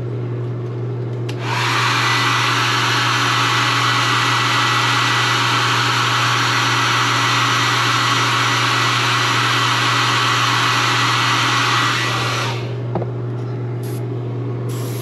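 Loud, steady roar of a heat gun held close as it heat-sets paint on a shad fishing lure, starting after about a second and running unbroken for around eleven seconds before cutting off.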